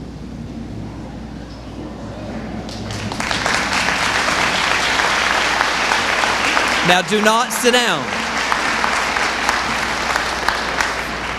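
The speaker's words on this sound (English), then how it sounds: "They rightly deserve your applause." Sustained applause from a large audience at a school academic banquet, loud and continuous, with a speaker's voice over the clapping near the start and a brief rumbling thump partway through.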